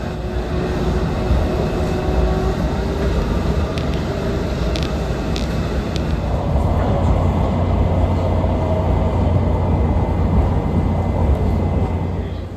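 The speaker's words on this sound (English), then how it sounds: "our Blue Line train was crossing the river on the Yellow Line Bridge" Washington Metro Blue Line train rolling across the river bridge, a continuous loud rumble of wheels and motors with brief faint squeals, heard from on board without talk.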